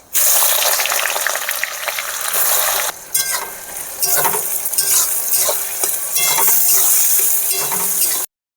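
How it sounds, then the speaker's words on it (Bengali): Loud, hissing sizzle of onions frying in oil with bay leaf, cardamom, cloves and cinnamon in a pan, with a brief break and stirring scrapes, crackles continuing until an abrupt stop. "পেঁয়াজ ভাজা হয়ে গেছে।"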